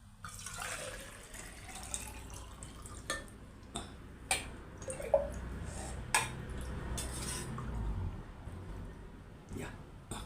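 Water from a tap pours into a jar during a water pressure experiment, a steady low rushing stream broken by sharp clinks and taps against glass, with a voice speaking quietly over it.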